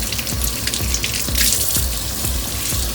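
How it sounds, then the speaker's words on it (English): Cold tap water pours steadily over cooked ramen noodles in a small home kitchen sink, a loud, continuous close splashing rush with faint rhythmic thumps beneath, and no talking. "now I have to put them under cold water so they stop cooking"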